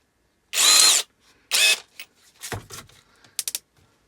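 An Aldi 40v cordless combi drill runs in two short whirring bursts as a bit is fitted, followed by clicks and rattles of the chuck locking, close and loud with no talk.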